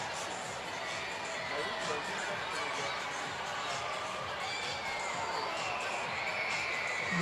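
A large crowd at a London Olympic test event creates a steady, distant roar of cheering and chatter that holds evenly throughout, with no single voice standing out.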